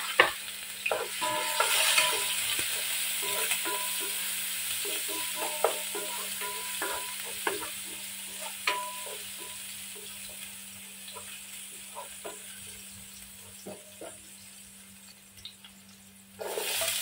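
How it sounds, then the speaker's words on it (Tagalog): Garlic sautés in cooking oil in a pan, a soft steady sizzle broken by repeated scraping stirs and clinks, close and clear, with a louder burst at the start and end. "Gagamit tayo ng cooking oil panggisa. Garlic, ang una natin ibisa guys."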